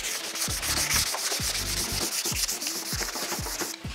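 Rhythmic hand sanding of car bodywork with 500-grit sandpaper, short rasping strokes repeated back and forth at a steady pace, close and fairly loud, with no voices.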